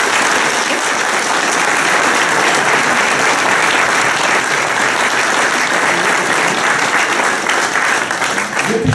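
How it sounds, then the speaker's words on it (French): Warm audience applause at a New Year's greetings ceremony in Tarnos, a dense, steady clapping from a large crowd that holds evenly loud throughout with no pauses. "qui mérite bien sûr de chaleureux applaudissements de parmi nous"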